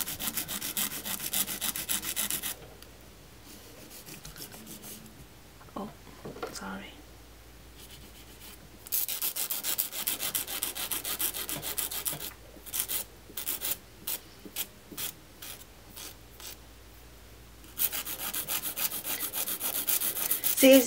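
Fingernails are filed with a nail file in close, scratchy back-and-forth strokes, coming in several bursts separated by quieter pauses, with soft talking now and then.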